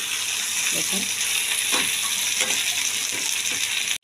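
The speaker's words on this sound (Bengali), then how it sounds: "পেঁয়াজটা টমেটোটা ভালো করে ভেজে নেব" Onions and tomatoes frying in a pan, a steady loud sizzle with occasional soft stirring scrapes and clinks, close up and continuous.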